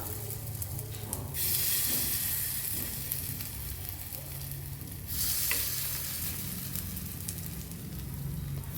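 Spoonfuls of green pea batter frying in hot oil for an Indian farsan snack, a steady loud sizzle that surges twice as batter drops in, with faint stirring scrapes and no talking.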